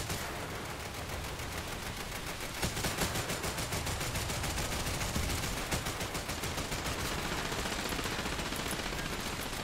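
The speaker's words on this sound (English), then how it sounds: "there's just going to be this hail of gunfire" Dense, sustained gunfire from small boats in the naval battles of the video game War Thunder, rapid repeated bursts layered over a continuous roar, loud and unbroken for the whole stretch.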